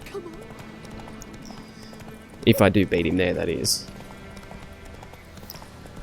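Horse hooves clip-clop in The Witcher 3 as the rider travels on horseback, a brief burst of rapid clattering steps partway through, with someone talking over the game audio.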